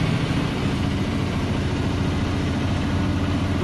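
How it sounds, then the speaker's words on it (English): A 10-speed tractor trailer pulls away from a stop at an intersection, its heavy diesel engine giving a steady, loud low rumble with no gear changes. "Slowly let out the clutch and then quickly release the foot from the brake and then gas it."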